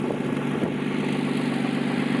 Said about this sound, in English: I'm pretty sure we got rod knock.